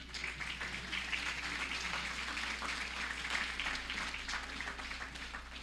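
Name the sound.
audience applause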